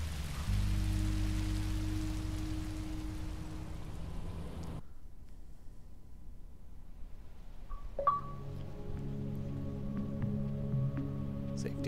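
Rain falls in the video game Minecraft: Story Mode as a steady, soft hiss for about five seconds, then stops abruptly. After a quiet gap, other quiet game sounds follow.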